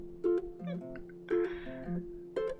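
A human voice imitates a cat, giving five quick, nasal, rising-and-falling meows in a playful run, close and clear, with no other talk.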